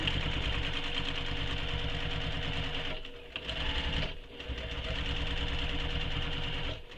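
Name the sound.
sewing machine backstitching a tote bag seam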